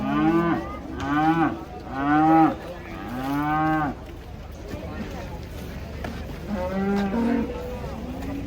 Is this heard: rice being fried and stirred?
no